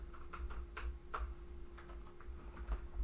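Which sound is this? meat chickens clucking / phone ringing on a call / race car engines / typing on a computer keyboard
typing on a computer keyboard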